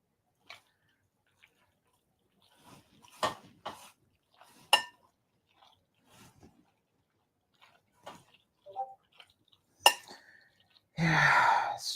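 Noodles are stirred in a pot with a utensil, giving sparse clinks and scrapes against the metal at irregular intervals, quiet between knocks, followed by a brief louder rush at the end.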